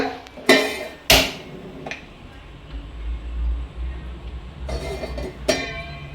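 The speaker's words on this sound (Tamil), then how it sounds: "ஏலக்காயும் இப்படி நசுக்கிடுங்க." Several sharp pounding knocks as cardamom pods are crushed with a pestle, striking in irregular bursts close up, with a low hum between them.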